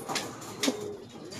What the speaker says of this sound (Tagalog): Ito, meron na pala tayong ibon dito. Pero hindi kalapate natin, si Dagit to